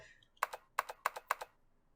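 Keyboard typing in the video game 999: Nine Hours, Nine Persons, Nine Doors: four crisp, evenly spaced keystroke bursts, each a quick double tap, close and clear, with a faint tone before them and silence after.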